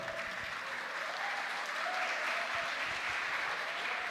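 An audience at an education seminar on gender diversity claps in sustained, even applause filling the room for several seconds, with no voices rising above it.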